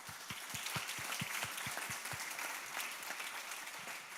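An audience at a lawyers' congress in Lausanne claps steadily for about four seconds, a moderate, even applause from a seated crowd heard at some distance.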